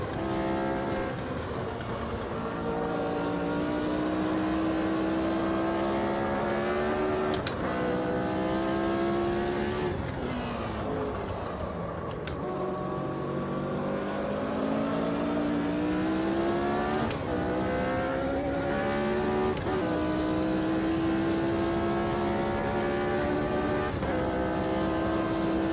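Engine of a vintage race car in the racing simulator Automobilista 2, a five-speed machine, revving loud and close with rising pitch sweeps through the gears and brief drops at each shift, alone throughout.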